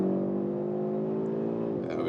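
An Audi RS3 with a five-cylinder engine, heard from inside as it accelerates out of a corner. A steady, loud, droning engine note holds, then shifts in pitch near the end.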